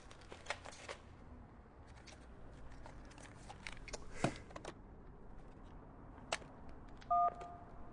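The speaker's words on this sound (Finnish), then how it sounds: "Täytyy vaan hoitaa muutama puhelinsoitto." Telephone keypad tones sound in a quiet room, with soft rustling and a few scattered clicks before a short, clear beep of dialing near the end.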